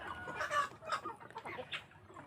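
Free-range village chickens cluck in a short series of soft, irregular bursts, close by and fairly quiet, with no voices over them.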